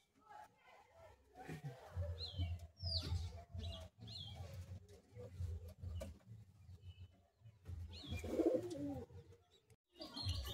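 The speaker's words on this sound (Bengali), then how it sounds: "দেখুন পায়রাটি।" Madrasi pigeons coo in low, repeated throaty bursts at close range, with someone talking intermittently between and over the calls and a few faint higher chirps in the background.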